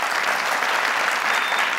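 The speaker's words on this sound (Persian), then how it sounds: "دوستا تشویق کنه خودتان" Studio audience applauding on a Family Feud–style game show, a steady dense wash of clapping that fills the whole moment at close, even loudness with no voices on top.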